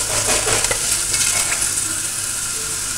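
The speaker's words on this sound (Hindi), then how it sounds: "ये देखिए 1 मिनट के लिए मैंने इसको भून लिया।" Fennel seeds and spices fry in hot oil in a pan for an aloo baingan curry, a steady dense sizzle with faint scraping of a spoon, continuous and close.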